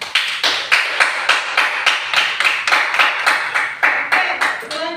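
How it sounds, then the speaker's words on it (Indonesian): A small classroom audience claps after a group presentation, a lively and fairly close burst of hand claps that quickly settles into a steady rhythmic beat and continues for several seconds. "Kita berikan aplaus dulu ya."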